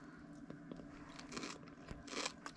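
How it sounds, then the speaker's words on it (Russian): Crisp crunching bites into a golden fried potato pancake, several close, quiet crackles in quick succession as someone chews. "Слышите, как хрустит?"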